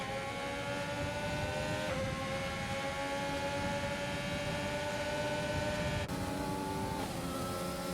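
F1 race cars overtaking in the F1 2020 video game at the Austria circuit, engines droning steadily with sustained pitched whines that shift as cars pass, loud and continuous throughout.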